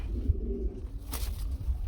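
Pigeons such as fancy and Danish breeds coo softly at a pigeon farm, a low rolling call near the start followed by faint rustling and a brief sharper sound, with no talk.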